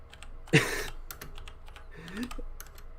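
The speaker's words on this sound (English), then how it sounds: "for those of you that hear my clacking on the keyboard" Computer keyboard keys clack in short, close bursts at a podcast desk, with a sharper cluster early on and scattered lighter taps, while a voice murmurs faintly.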